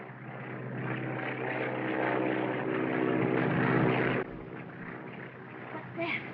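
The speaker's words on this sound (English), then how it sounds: "An aeroplane. Searching for us." A propeller aeroplane drones overhead in an old 1930 film soundtrack, a steady engine hum that swells and then cuts off abruptly, with a faint sound after.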